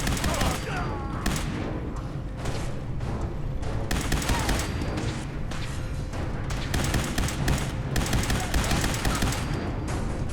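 Rapid gunfire from the video game Fallout 4 comes in dense bursts of shots and booms throughout, loud and close.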